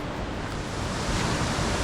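Steady rushing flow of a mountain creek running alongside a forest hiking trail on the way to Ramsey Cascades in the Great Smoky Mountains, a close, continuous broadband wash with no pauses and no voices.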